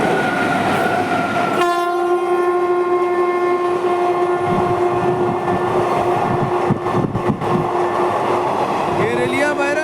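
A train passing close by with a long, loud horn blast that sustains through nearly the whole stretch, over continuous rumbling wheel and track noise.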